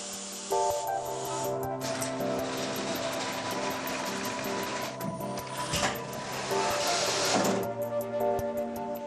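The power cable of a Miele S8 vacuum cleaner is pulled out and drawn back in repeatedly on a test rig, a steady mechanical whir and rubbing with tonal hum and sharper swishes as the cable moves, no voices.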